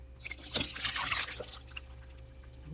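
Liquid drains from canned fruit for a fruit salad in a steady trickling, splashing stream, close and moderately loud, easing off toward the end with scattered drips.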